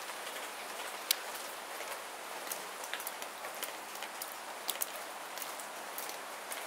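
Rain leaks through a roof beneath a central beam and drips steadily as a dense, constant patter with scattered sharper drops, while a bird coos softly in the background.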